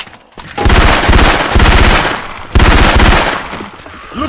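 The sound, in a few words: Syphon Filter weapon sound effect in Left 4 Dead 2 video game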